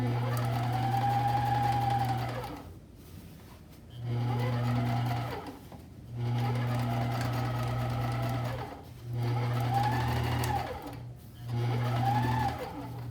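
A sewing machine stitches an understitched seam in five steady runs of humming, whirring motor. Each run lasts about two seconds, with short pauses between them and no talk.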